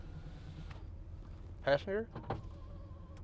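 Power windows on a 1986 GMC Sierra 1500 pickup whir briefly in short bursts during a test drive, with a person speaking in the cab over the motor.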